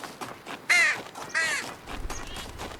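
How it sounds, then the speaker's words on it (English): Crows cawing in The Talos Principle 2 video game, two loud harsh caws about half a second apart, close and clear over a quiet ambient background, followed by faint soft rustling. "crows."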